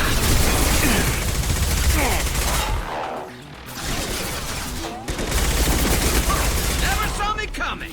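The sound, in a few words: gunfire in the video game Mass Effect 2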